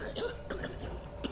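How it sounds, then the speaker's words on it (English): A person's cough bursts out close by, a rough, throaty hack repeated in a few short spasms over about a second, heard inside a horror game setting. "Man, contain that cough, bro."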